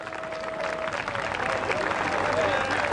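A church congregation at an outdoor park gathering gives a big round of applause in praise, with continuous crowd clapping beneath a held musical tone and some voices.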